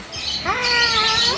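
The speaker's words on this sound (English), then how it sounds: "We see parrots, lots of birdies." Parrots and other birds at Gallop Kranji Farm Resort in Singapore squawk and chirp nearby in a lively, overlapping chorus of bright calls.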